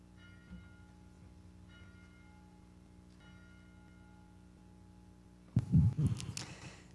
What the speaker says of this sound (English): We begin our service by the ringing of the bell